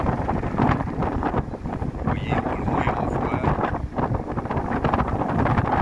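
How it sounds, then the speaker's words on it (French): Strong wind buffets the microphone aboard a boat at sea, a loud, continuous roaring rumble that never lets up, with someone speaking French partly buried underneath it. "C'est très venteux, excusez-moi."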